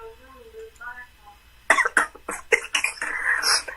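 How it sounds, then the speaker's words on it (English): A person coughs in a rapid burst of several harsh, close coughs, preceded by a brief stretch of speech. "My grandma hear me coughing."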